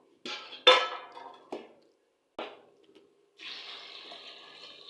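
Water splashes and runs in short bursts as raw peanuts in their shells are rinsed, with quiet pauses between and a steadier trickle at the end.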